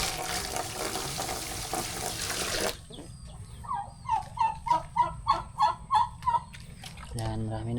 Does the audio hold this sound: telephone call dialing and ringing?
no